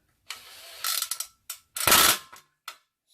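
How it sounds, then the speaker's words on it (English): A socket ratchet tightens bolts on a Magnum Energy MMP mini control panel, giving several short clicking bursts and a longer ratcheting run, close and fairly loud, with gaps between strokes and no talk. "we're gonna start tightening up the bolts. I'm gonna use this socket right here"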